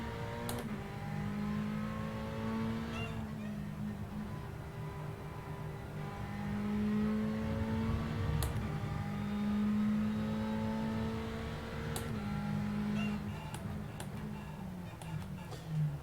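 GTE race car engine in a PC racing video game, a steady droning engine note that rises and falls with gear changes, accompanied by sharp ticking clicks, faint and continuous throughout.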